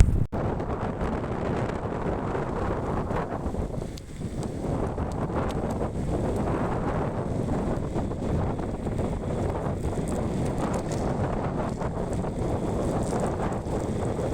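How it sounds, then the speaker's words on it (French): Strong storm wind gusts during storm Pedro in Gironde, France, roaring steadily and loudly into the microphone with constant buffeting and rustling for the whole stretch, briefly easing once before surging again. "voir les rafales de vent"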